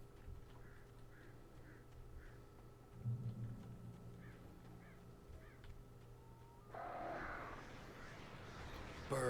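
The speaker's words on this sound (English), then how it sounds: "Birds." Crows caw in the video game Alan Wake, a string of short, repeated calls at moderate distance, joined by a louder burst of flapping and squawking near the end over steady ambient game noise.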